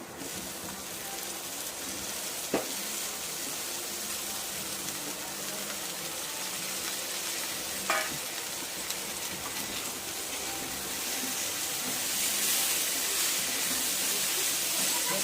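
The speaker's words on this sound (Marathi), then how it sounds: "स्वच्छ साफ करून घेतलेला धुवून घेतलेला फ्लावर आता याच्यामध्ये आपण टाकून देणार आहे परतण्यासाठी" Washed cauliflower florets sautéing in a pan, giving a steady, soft frying hiss that swells slightly toward the end, with a couple of faint utensil knocks; no voices are heard.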